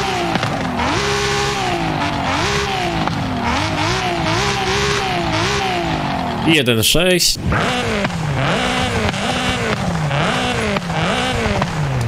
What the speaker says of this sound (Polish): Tutaj z RS3 chyba nic nie porobimy, jeśli chodzi o dźwięk samochodu